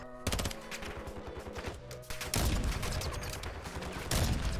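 Rapid video game gunfire pours into a bot, with dense overlapping shots and bursts that run nearly continuously across the clip, loud and close with no talking.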